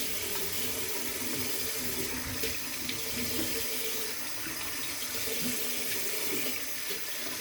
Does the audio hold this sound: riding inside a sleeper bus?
no